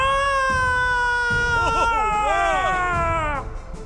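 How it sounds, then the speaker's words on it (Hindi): A long wailing scream rises and wavers with strained, shaking pitch, loud and sustained for several seconds before breaking off, used as a dramatic sound effect in a Hindi narrated story. "चीकू ने पहला निवाला तोड़ के मुंह में डाला तो शांति चाची के घर से एक अशांत चीख गूंज उठी"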